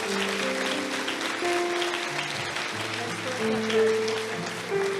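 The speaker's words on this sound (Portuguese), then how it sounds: "vamos dar uma salva de palmas para o Senhor." A church congregation applauds, and a steady wash of clapping runs throughout under sustained organ-like music tones, at a moderate, even level.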